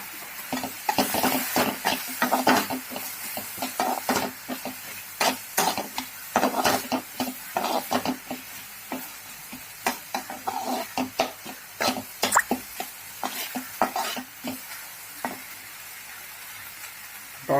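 Ginger-garlic paste sizzles steadily in a hot pan while cooking dal kanda, with frequent sharp scraping and clinking strokes of a spoon stirring close by; a brief cough-like sound appears, with no clear speech.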